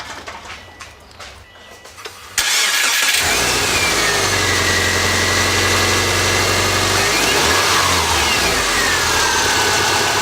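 A Saab 9-2X engine fires up after a timing belt change: quiet shop sounds, then an abrupt start into a loud, sustained run with rising and falling revs close by, no voices.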